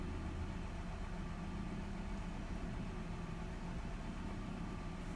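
A 2002 Mazda Tribute's 3L engine idles at a raised 900 RPM, a steady, even hum with no pauses, no talk, and a constant low rumble throughout.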